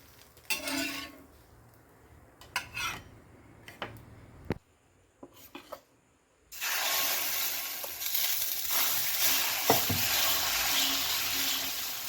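Hibiscus dosa sizzles on a hot pan, a steady frying hiss that rises after scattered ticks and scraping taps of a spatula on the pan.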